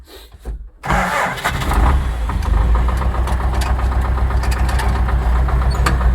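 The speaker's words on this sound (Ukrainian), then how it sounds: "Трактор з дисками." A heavy tractor engine cranks and catches, then settles into a loud, steady rumbling idle that continues close by.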